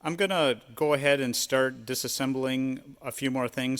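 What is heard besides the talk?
No everyday noise stands out behind the speech.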